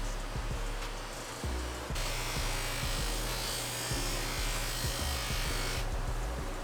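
A buffing wheel with finer compound polishes a two-stroke RM250 exhaust pipe, giving a steady close whirring hum broken by repeated rubbing and scuffing surges as the pipe presses against the wheel.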